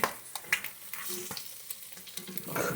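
A burger patty fries in hot bacon grease, giving a steady sizzle broken by a few sharp pops and scraping stirs, close and fairly quiet.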